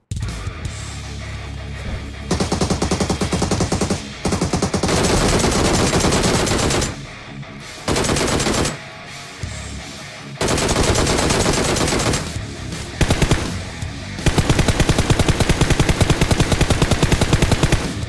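A DP light machine gun in a shooter video game rattles out several long, loud, close bursts with brief gaps between them.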